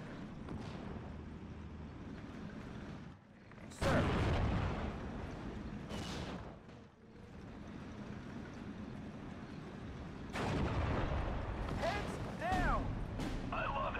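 Tank guns firing in the WWII strategy game Steel Division: Normandy 44, with several sharp booming shots and rumbling battle noise under steady commentary from a player.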